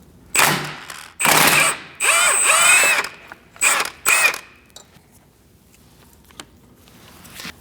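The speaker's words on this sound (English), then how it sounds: "I'm using a 13mm socket with an extension and a swivel to get to these bolts." A 13mm socket on an extension and swivel turns rear brake bolts on a 2000-2006 Mini Cooper, making several short, loud mechanical ratcheting bursts separated by pauses, then quieter faint clicks.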